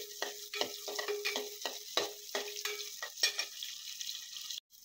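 Onions and spices fry in a pan for a prawn fry masala, giving a light sizzle broken by repeated short scrapes and taps of a stirring spoon, fairly close and steady, with no one speaking.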